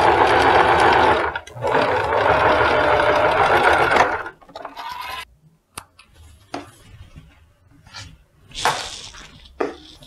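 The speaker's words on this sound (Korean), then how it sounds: "박음질을 합니다." A sewing machine stitches the tiered skirt of a two-tier collared dress, running in a loud, steady burst for about four seconds, then falling quiet apart from a few short, fainter runs and small handling noises.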